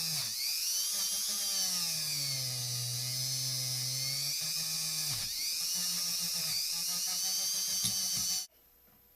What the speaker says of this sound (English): this is a cheap Dremel